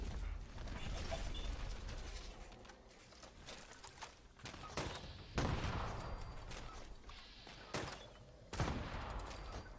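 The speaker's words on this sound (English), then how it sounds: "An automatic grenade launcher." Automatic grenade launcher firing in Fallout 76: a few loud, heavy bursts of explosive blasts stand out against a steady clatter of mechanical clicks and creaks, with no one speaking.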